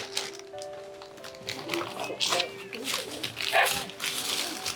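A dog yips and whimpers in short bursts at mid distance, mixed with people talking and background household noise.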